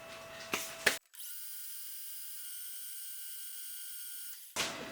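A metal lathe spun up to 1280 RPM while cutting an arbor for a shell mill lets out a thin, steady high-pitched whine for about three and a half seconds, framed by short clunks before and after.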